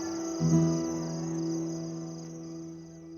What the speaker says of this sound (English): The house finally falls silent, except for the sound of crickets and jackals outside.